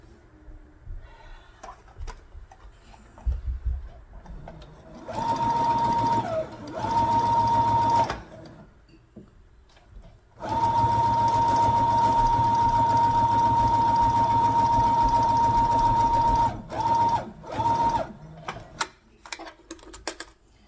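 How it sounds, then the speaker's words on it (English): A sewing machine stitches white fabric for a quilt block in several bursts of fast, whirring motor hum, with short pauses between runs. "I'm going to just sew the white to see if it works"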